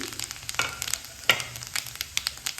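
Cumin seeds sizzling in hot oil in a pan where garlic is being fried dark, a light crackling frying bed with scattered sharp pops and spits throughout.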